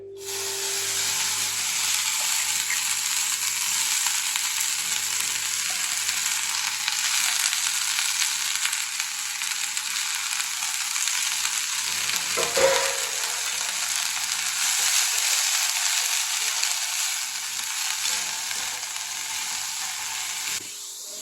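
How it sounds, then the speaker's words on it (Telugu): Chutney ingredients fry steadily in a pan, a dense, even sizzle and hiss that runs unbroken for the whole stretch with a faint stir or knock partway through. "పచ్చివాసన పోయేటప్పుడు పోయేదాకా వేయించుకోవాలండి"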